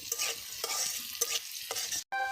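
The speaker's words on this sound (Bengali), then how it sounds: "পেঁয়াজটাকে সুন্দরভাবে কষিয়ে নেবে।" Chopped onions frying in soybean oil in a hot wok, stirred with repeated scraping strokes over a steady, close sizzle; a brief dropout near the end, then a clean tone.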